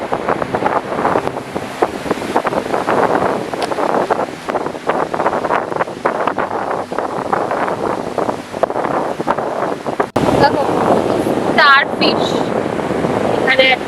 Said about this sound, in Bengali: প্রচুর হাওয়া ভোরবেলার সমুদ্র একদম শান্ত নিরবিলি আর সমুদ্রের খালি কলরব আর কোনো শব্দ নেই